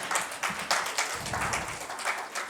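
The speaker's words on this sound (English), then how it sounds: "Let's give him a big round of applause" An audience applauding at an on-stage felicitation event, a steady patter of many hands clapping at moderate distance, continuous and fairly soft throughout.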